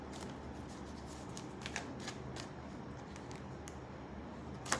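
Tarot cards are shuffled steadily at close range during a love reading, a dense soft riffling with a few sharper snaps, alone with no talk.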